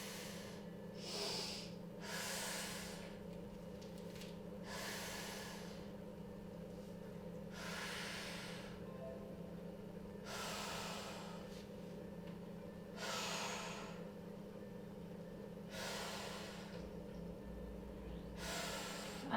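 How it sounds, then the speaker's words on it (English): Deep rhythmic breaths during Pilates pelvic tilts, about eight airy inhales and exhales spaced a couple of seconds apart over a steady low background hum, close and fairly soft. "Inhale, exhale, inhale, exhale as you tilt."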